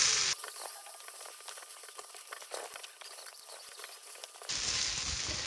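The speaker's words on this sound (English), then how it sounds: "So in with the garlic, and we're going to give that a little fry for a minute or two" Garlic sizzles in a hot pan alongside browned meatballs for tapas, a steady bubbling fry heard close up with no talking.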